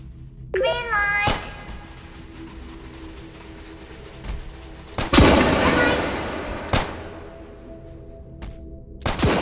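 Sharp gunshots in the Roblox game Shrimp Game crack out several times at irregular intervals, one followed by a sustained noisy burst, alongside a brief high whine and background game sounds.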